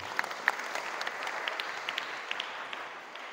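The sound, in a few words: applause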